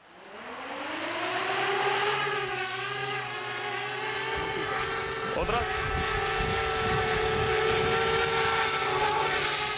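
A drone's motors whine and rise sharply in pitch as it lifts off, then settle into a loud, steady buzzing; a single word is spoken.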